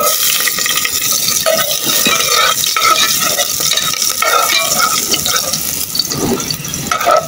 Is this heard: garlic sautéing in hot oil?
yes